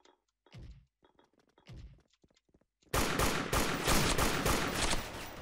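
Gunfire in the mobile shooter Free Fire. A few sparse thumps and shots are followed by a loud, sustained burst of rapid automatic fire, close and dense, with no talk.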